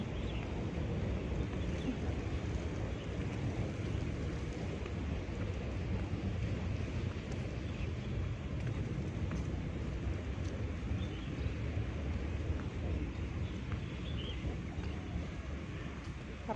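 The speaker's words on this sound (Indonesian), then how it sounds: "Ada angin sepoi-sepoi." Steady outdoor wind blowing across a microphone in a park in Chai Wan, a constant broadband rush with low rumble that holds evenly throughout, with no distinct other sounds above it.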